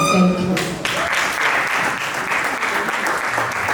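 Audience applause rings out at a panel session for teenagers, dense clapping starting just after a spoken voice and continuing steadily, loud and close.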